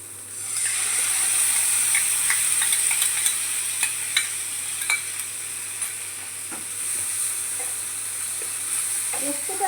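Poppy seeds in a little water sizzle on low heat in a pan, a steady hiss of frying broken by scattered taps and scrapes of stirring; a voice is faintly heard.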